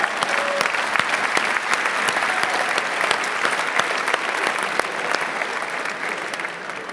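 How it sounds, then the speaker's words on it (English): Sustained audience applause for a royal guest called to the stage at a live event in the Netherlands, dense and steady clapping from a large crowd lasting throughout without a break. "Big round of applause, please."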